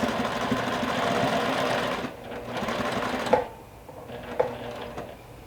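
A sewing machine stitches through both layers of a thick minky blanket, running steadily and close for about two seconds, then in shorter stop-start bursts with a couple of sharp clicks.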